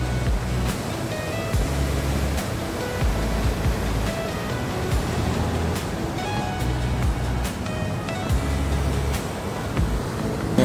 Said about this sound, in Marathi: पाण्याला किती सुंदर भरती आहे बघा.